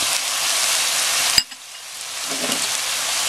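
Bean sprouts stir-fried with soy sauce and oyster sauce for Filipino ginisang toge: a loud, dense sizzle cuts off sharply partway through, then softer stirring and frying noise continues, with no voices.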